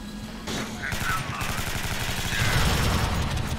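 Rapid automatic gunfire in the video game Alien Swarm Reactive Drop rattles steadily throughout, a thick stream of shots with a player talking over it.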